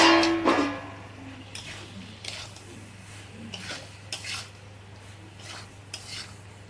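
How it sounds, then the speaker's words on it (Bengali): Potatoes and pointed gourd tumble into fried masala in a pan, followed by a soft sizzle and repeated spoon scrapes and stirs against the pan, close up with no voices. "এবার আমি আলু পটলটা দিয়ে দিচ্ছি"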